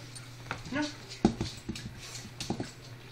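A dog gives a few short whimpers and whines amid a person's nearby talking, close and intermittent over a low hum.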